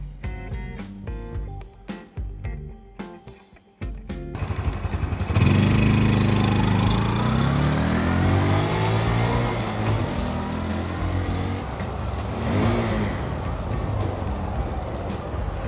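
A Honda Cup 125 motorcycle fitted with a Yoshimura full exhaust revs up hard after some quieter sounds, then holds a loud, rising and falling engine note close by for about ten seconds.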